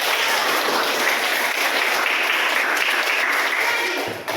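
An audience at a campus presentation breaks into continuous applause, a steady, loud roar of many hands that holds level and tapers slightly at the very end.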